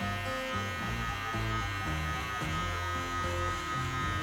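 An electric hair clipper fitted with a one guard, lever open, cuts hair during a mid-bald fade, giving a steady close buzz that holds unbroken for the whole stretch over a layered tonal background.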